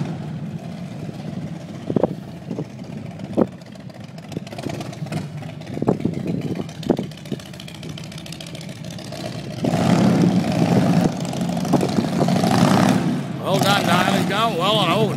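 A custom chopper motorcycle idles with a low, lumpy rumble, punctuated by several sharp throttle blips, then revs up more strongly near the end while people talk over it.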